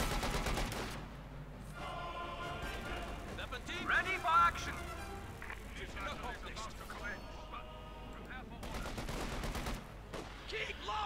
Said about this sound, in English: They are getting absolutely pummeled here by the 50 caliber